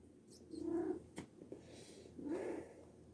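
A domestic cat gives two drawn-out meows, moderately close and fairly soft, separated by a short pause in an otherwise quiet room.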